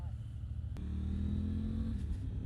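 A Triumph Tiger 900 GT motorcycle exhaust revs up close, a rising growl over a low rumble, with a steady drone and some background noise.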